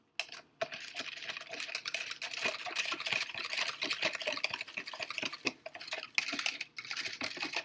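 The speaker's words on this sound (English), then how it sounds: "And I'm going to stir it together." Magnesium sulfate being stirred into water in a lab container, a faint run of quick clinking ticks from the stirrer tapping the glass, steady and close with brief pauses.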